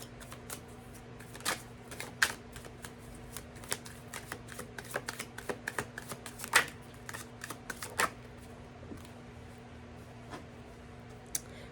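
Tarot cards shuffled by hand in a quiet room, a steady run of soft riffling snaps and flicks spread across the whole stretch, with a constant low hum underneath.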